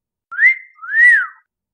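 A two-note catcall whistle: a short rising note, then a longer one that rises and falls. It is loud and close, alone against silence.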